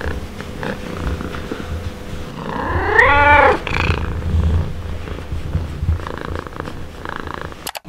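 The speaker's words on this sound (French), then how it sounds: "il y a Mamao qui fait que le miauler, il attend les rats" Mamao the cat purring close by with a steady low rumble, broken by one drawn-out rising and falling meow in the middle. No one speaks.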